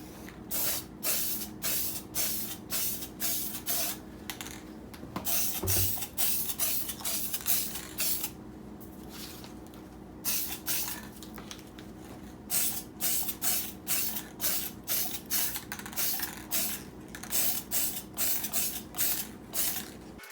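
Gold spray paint hisses from an aerosol can in a rapid series of short, regular bursts, with one longer pause partway through, close and steady, and no voices.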